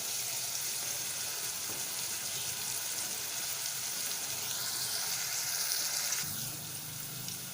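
Food frying in a pan for a lamb stew gives off a steady, close sizzle and crackle that runs throughout, softening a little near the end, with no talking.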